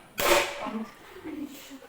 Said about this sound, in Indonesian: Seperti Bapak akan coba pukul 1 kali.